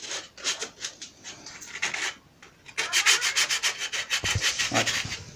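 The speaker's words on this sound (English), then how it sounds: "use a piece of sandpaper. Just the rough edges." Sandpaper is rubbed by hand over the rough edges of a firewood log box, giving a quick series of raspy back-and-forth strokes, close and fairly loud, with a short pause partway through.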